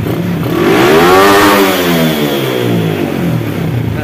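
A Suzuki Smash 115 motorcycle fitted with a racing CDI revs up loudly and close, the engine note climbing to a high whine and then falling back as the throttle eases, with no talk over it.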